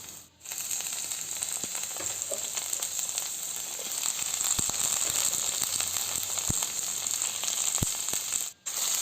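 Tomato pieces frying in oil for Andhra-style rava upma give a steady, fairly quiet sizzle with a few sharp crackles and pops, continuous with no one talking.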